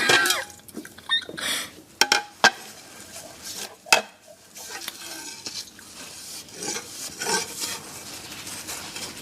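Dishes, pots and utensils clatter and clink in a household kitchen, with sharp metallic knocks and scraping amid steady rummaging, close and moderately loud without talk.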